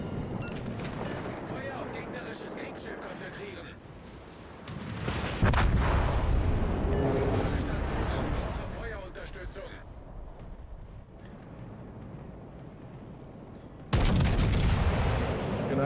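Warships firing high-explosive shells in World of Warships: Legends, heavy gun salvos boom out in loud bursts around the middle and again near the end, under ongoing talk.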